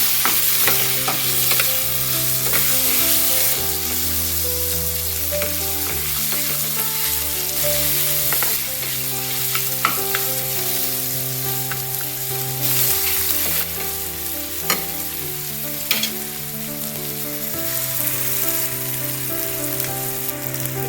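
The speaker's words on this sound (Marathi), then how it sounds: "टमाटर नरम होईपर्यंत व्यवस्थित परतवून घ्यायचं." Chopped tomatoes sauté in a pan for egg bhurji, with a steady close sizzle and frequent scraping stir strokes running throughout, no voices present.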